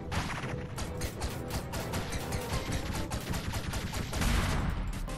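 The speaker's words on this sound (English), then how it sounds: "he shoots like a million more bullets now" An enemy in the Owlboy video game fires a dense, rapid stream of bullets. Sharp shots crackle constantly for the whole stretch, and crashing impacts thicken the sound near the end.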